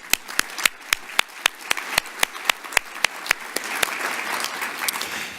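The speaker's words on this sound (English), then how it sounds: "I'd ask a round of applause for all of our sponsors" A crowd applauds with sharp, distinct claps that start sparse and rhythmic, then blur into a denser, steady ovation.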